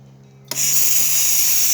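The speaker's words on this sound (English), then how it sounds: "Frother." A Breville 990 Oracle espresso machine's milk frother kicks on abruptly after a quiet moment with a faint hum, then holds a loud, bright, steady hiss.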